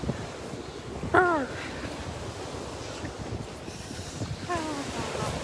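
Chilly wind blows steadily outdoors near a creek, a continuous rushing buffet across the microphone, broken by two brief, high, chirping calls early and late.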